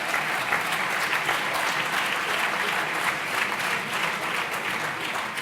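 Sustained applause from a conference audience at the Palazzo dei Congressi in Pisa, a dense, even wash of many hands clapping at steady loudness throughout, with no voices standing out.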